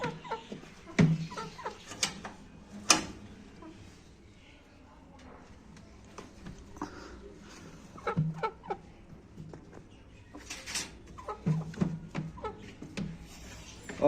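Chickens and a white rooster in a backyard coop give scattered clucks and short calls, some close and some farther off, with someone talking quietly over them.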